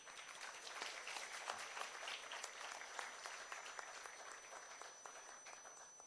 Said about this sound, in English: Ladies and gentlemen, can we please keep clapping?